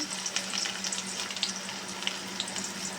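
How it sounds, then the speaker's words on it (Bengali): Shing fish spice paste frying in hot oil in a wok, a steady close sizzle with small crackles and pops throughout, and no talk. "পেস্ট আমি ভেজে নেব ভালো করে"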